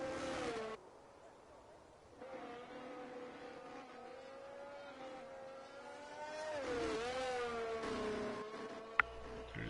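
Race cars in a racing video game on a wet track, with a steady engine whine that rises and falls as cars pass, moderately close, and a sharp click near the end.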